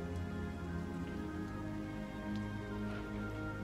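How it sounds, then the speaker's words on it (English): Steady rain falls in a swamp, a dense, even hiss of drops on wet surfaces that holds constant throughout at moderate level, with no voices. "I'm sorry about the rain."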